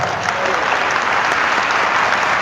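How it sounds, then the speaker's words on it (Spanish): Audience applause in a church gathering led by a Catholic priest, steady and dense clapping from many hands throughout, close and fairly loud with no break. "Un aplauso para él."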